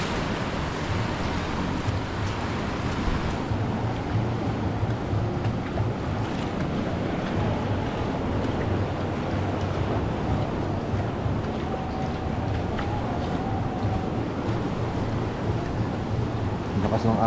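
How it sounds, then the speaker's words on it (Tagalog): Strong ocean waves roll and crash against a rocky beach in Real, Quezon, making a continuous heavy roar, with wind buffeting the microphone throughout. "Ang lakas ng alon, no?"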